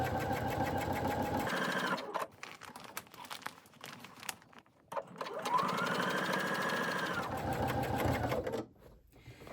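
Sewing machine stitching around the edge of a fabric travel pouch, running in several close bursts with brief pauses and rustling fabric handling between them.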